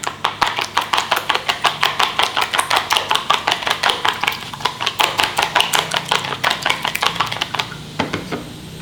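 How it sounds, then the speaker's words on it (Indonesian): Two eggs being beaten rapidly in a bowl, a fast steady run of sharp clicking taps close up with no voices. "Ada 2 buah telur. Kita kocok."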